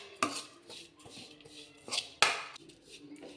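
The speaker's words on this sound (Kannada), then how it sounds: "ಅದಕ್ಕೆ ಇವಾಗ ತುಪ್ಪದಲ್ಲಿ ಸ್ವಲ್ಪ ಹುರ್ಕೊತಾ ಇದ್ದೀನಿ." Dates and dry fruits roasting in ghee in a pan, stirred with a utensil that gives a few sharp scrapes and knocks against the metal over a low sizzle, with quiet spaces between strokes.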